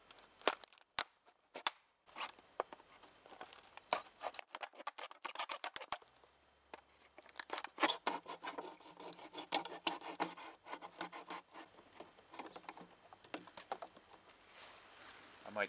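Knife blade rasping and scraping into maple tree wood while carving a hole for tapping, an irregular run of close, moderate scratching and gouging strokes that grows busier and denser partway through, with no voices.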